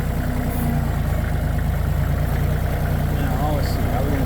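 A tractor engine idles steadily at close range with a low, even rumble that holds throughout while firewood totes are lifted nearby.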